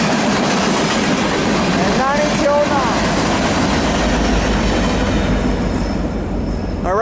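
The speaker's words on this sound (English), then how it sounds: "there goes that eastbound manifest and the westbound Z train" An eastbound manifest freight train and a westbound Z train pass each other at Daggett, a loud continuous rolling roar with rhythmic wheel clatter and brief squealing, while a person speaks briefly.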